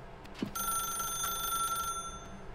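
A telephone rings in The Stanley Parable: Ultra Deluxe, a steady electronic bell tone lasting about a second and a half after a brief knock, set against a low room hum with no voices.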